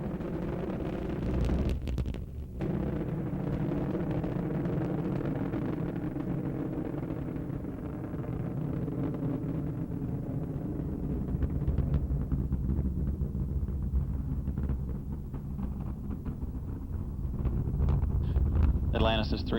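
Space Shuttle Atlantis's three main engines roar during the STS-71 launch, a loud, continuous, distant low rumble that holds steady for the whole span, with a crackling wind-like texture and a slight swell toward the end.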